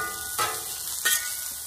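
Food sizzling on a Blackstone flat-top griddle while breakfast cooks, a steady frying hiss with two brief louder bursts of spatter partway through, close by with no talking.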